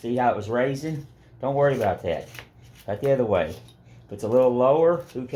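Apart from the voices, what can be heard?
No everyday noise stands out behind the speech.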